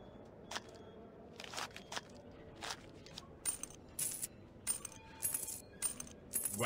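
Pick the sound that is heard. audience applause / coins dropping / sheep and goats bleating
coins dropping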